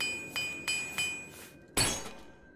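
Metallic clinks from a repair hammer in The Elder Scrolls IV: Oblivion, three quick light taps in an even rhythm, then a louder glassy crack as the hammer breaks, all fairly close and without talk.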